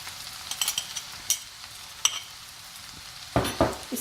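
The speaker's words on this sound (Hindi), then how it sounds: "इसको 2 स्पून से अच्छे से मिक्स करेंगे।" Chicken chow mein noodles with green onion tops being stirred and tossed with two spoons, giving soft scattered scraping clinks over a faint steady background hiss, a few louder clatters near the end.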